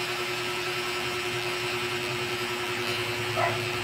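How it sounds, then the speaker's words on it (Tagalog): Electric hair clippers shave the left side of a taper fade, giving a steady continuous motor hum with a faint buzzing drone and a brief brighter burst near the end; no one talks. "Ito, nag-aahit na siya sa bandang kaliwa."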